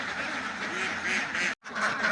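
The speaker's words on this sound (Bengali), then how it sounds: "দেখেন হাঁসগুলো এখন সব ছেড়ে দিলাম এখন সব হাঁস বেরোয় যাবে" A flock of domestic ducks quacks continuously as they are let out of their farm house, a dense, close chorus with one brief break.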